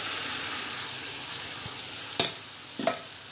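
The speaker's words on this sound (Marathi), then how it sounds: "आता याच्यामध्ये आपण मूग डाळ टाकणार" Moong dal goes into a bright red tadka and sizzles in a steady close hiss, with a couple of spoon clinks and stirring scrapes near the end.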